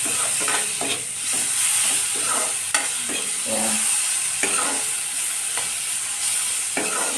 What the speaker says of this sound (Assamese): মই বিলাহীটো আগতে পিঁয়াজৰ লগতে ভাজি লওঁ